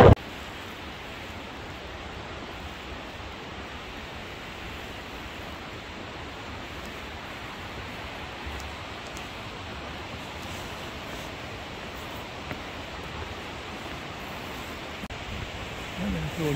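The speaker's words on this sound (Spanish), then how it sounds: "Qué bonito allí la cascada." A waterfall along the cliffside walkway of El Caminito del Rey near Málaga, heard from a distance as a steady, soft broadband rush that holds constant throughout, with no talk over it.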